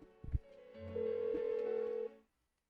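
A single electronic phone ring tone sounds in the Persona 4 Golden video game, a steady sustained tone lasting over a second after a couple of short clicks, then silence.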